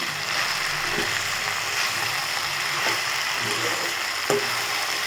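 Okra sautéing with salt in a pan gives a steady close sizzle with occasional scrapes and taps of a spatula against the metal, continuous and fairly loud, with no voices.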